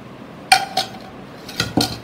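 A few sharp clinks of a utensil against a bowl as mango puree, flour and milk powder go in for an eggless mango cake batter: four distinct knocks in two pairs, close and moderately loud.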